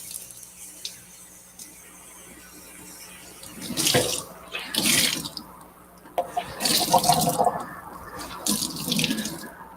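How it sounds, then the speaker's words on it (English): Warm tap water runs into a kitchen sink to dampen a clean dish towel for covering pizza dough, starting after a quiet stretch and continuing in several close, splashing bursts of varying strength. "grab a clean dish towel and just get it damp with warm water"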